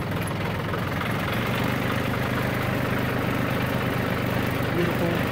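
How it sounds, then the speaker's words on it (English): A loud tractor engine runs steadily and close on a late-fall day while hauling firewood through mud, a constant low rumbling drone with a knocking texture throughout. "I know the engine on the tractor is loud"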